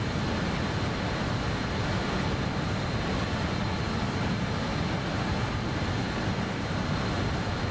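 A regional jet cruises at about 240 knots in Microsoft Flight Simulator 2024, its engine drone a steady, unbroken broadband roar from start to finish.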